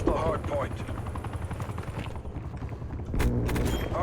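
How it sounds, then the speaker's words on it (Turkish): Attack helicopter in Call of Duty Black Ops Cold War pouring fire onto targets: a rapid, steady stream of gunfire under a helicopter drone, with a louder burst near the end and someone talking over it. "Vur oğlum atak helikopterim hepsine vur"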